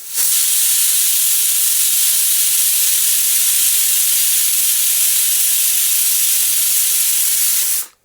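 A pressure cooker boiling red kidney beans lets out a loud, continuous hiss of steam, close by, lasting several seconds before cutting off abruptly.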